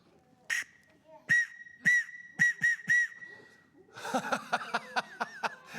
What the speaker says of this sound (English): it's good to carry a whistle with you, so you can whistle a little bit.